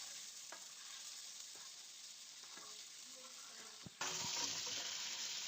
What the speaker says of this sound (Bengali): দিয়ে দিচ্ছি কেটে রাখা পটল, একই সাথে দিয়ে দিচ্ছি সামান্য একটু লবণ আর হলুদ, দিয়ে পটলগুলোকে একটু সময় নিয়ে ভেজে নেব